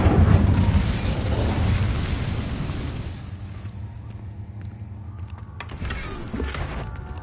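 Incendio fire spell cast in Hogwarts Legacy: a loud, whooshing, roaring burst that swells at once and then fades over several seconds into a low rumble, with a smaller flare near the end.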